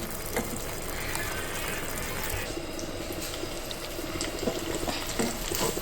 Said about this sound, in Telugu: సో ఈ పెరుగు ఈ మిరపకాయలు బాగా ఉడికే వరకు వీటిని ఇలా వదిలేద్దాం.